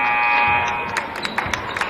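A long, loud electronic buzzer sounds at the end of a quarter during a high school basketball game, Bishop Guertin at Dover, holding steady for about a second before fading into gym crowd noise and squeaky sneaker-like clicks.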